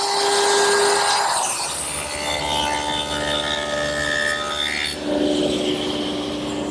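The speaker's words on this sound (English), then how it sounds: "Now I'm just rounding over the inside and then the outside edge with this 3/8 inch radius round over bit." A router with a 3/8 inch radius round-over bit shapes the inside and outside edges of a wooden hall seat frame in a workshop, giving a loud, continuous high whine and cutting roar that shifts pitch slightly as the bit bites the wood.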